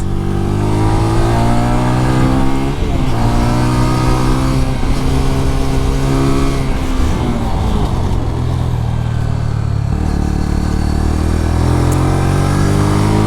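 A MITT GP 125 motorcycle laps a small kart track, its mid-pitched engine droning loud and close. The revs rise and fall as it slows for corners and pulls away again.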